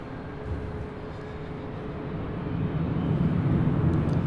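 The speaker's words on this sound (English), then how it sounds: "Rolling down to 24 left, United Express, SkyWest Flight 5591, heading to Fresno in the C-175 LR." A SkyWest United Express regional jet rolls for takeoff on runway 24 left at LAX, a broad, steady engine roar that swells gradually louder as it builds power from a distance.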